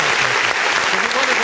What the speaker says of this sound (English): give them a round of applause there